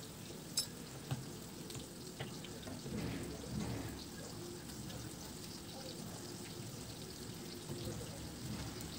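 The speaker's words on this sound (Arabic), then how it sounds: "وهنا طبعا بشوح الجزء الباقي" Food being sautéed and tossed in a pan, a soft steady sizzle with occasional clinks and stirring knocks, close but fairly quiet, with faint background noise.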